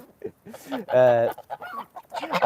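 Backyard chickens cluck and squawk in short bursts close by, with a goose among the flock, one drawn-out harmonic call standing out in the middle.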